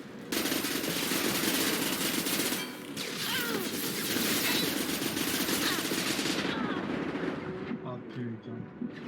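Turret machine gun in Mass Effect 2 fires in long sustained bursts, with a brief break near three seconds and the barrage fading after about six seconds, a loud dense rattle that stays prominent throughout.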